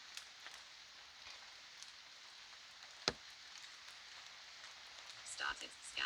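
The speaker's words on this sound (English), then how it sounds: "It'd be hard to hear anyway with the rain," Steady rain patters on surfaces outdoors, forming a soft, even hiss throughout. A sharp knock sounds midway, and faint voices and rustling come near the end.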